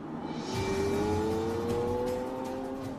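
A Lamborghini Aventador on its final road test drives past, engine whirring with a rising, sustained tone at moderate distance.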